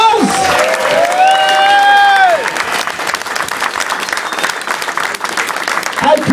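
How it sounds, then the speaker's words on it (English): Loud audience applause fills a presentation room, with cheering voices and whistles rising over the steady clapping early on, then continuous dense clapping carrying on to the end. "Ladies and gentlemen, give him a massive round of applause, Jerry Devils!"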